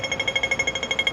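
A Hong Kong pedestrian crossing signal ticks in a fast, steady, unbroken rhythm, sharp and bright, close by with no voices over it.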